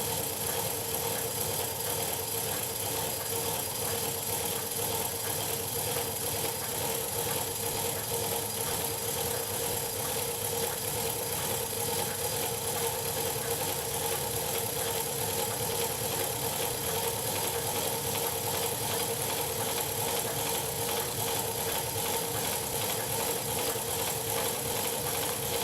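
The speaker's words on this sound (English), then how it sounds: "You might be able to hear the speed of the engine picking up now as the boiler pressure is getting up to its maximum working limit." A 00 gauge live steam model of the Cock o the North locomotive runs with a steady, continuous mechanical whir and hum, constant in level and fairly close, with no talking.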